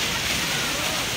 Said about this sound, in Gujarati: આવી રહ્યું કેમ્પુ વોટરફોલ. Guys કેમ્પુ waterfall Mussoorie